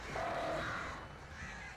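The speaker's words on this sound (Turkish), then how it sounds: "Şu kargaları hiç sevmiyorum." Crows cawing in the video game Alan Wake: a short burst of harsh caws from a flock, fairly loud and alone.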